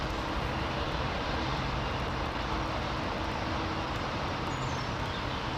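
A distant airliner rumbles at London Heathrow Airport, a broad, steady engine roar held at an even level throughout with no talk over it.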